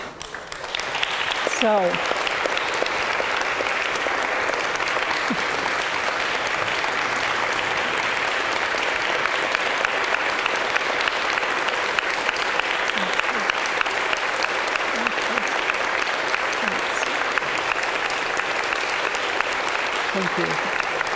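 A large live audience applauds steadily and loudly for about twenty seconds, a dense continuous wash of clapping with a brief spoken word near the start.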